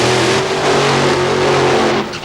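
A Pro Stock drag racing car engine at the NHRA Chief Auto Parts Nationals in Texas, 1994, roars loud and close in a steady, high-revving blare that cuts off near the end.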